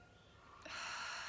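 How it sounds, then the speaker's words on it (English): A deep breath drawn in during a calm morning meditation, a faint quiet start giving way to a long, steady, airy inhale that fills the rest of the moment, close and alone with no talking. "start with a couple of deep breaths into the heart, into the belly, and hold those breaths"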